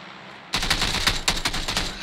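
Rapid automatic AK rifle fire from the PUBG video game, a dense burst of loud, closely spaced shots that starts abruptly after a short pause and continues steadily to the end.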